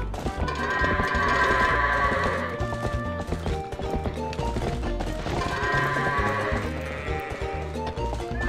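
Goats bleating in the video game Zelda: Twilight Princess, cries rising twice over a steady bed of game music, with hoof-like clopping and no speech.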